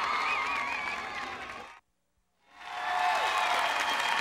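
A studio audience at a Grand Championship game show breaks into loud, sustained applause and cheering, cuts to a brief silence, then the clapping swells back up at full strength.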